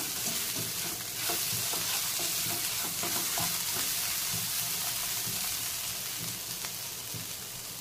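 Spinach and pea kachori filling with chaat masala being stirred in a pan, with a steady soft sizzle and a broad hiss, plus scattered scrapes and taps of the spoon against the pan throughout.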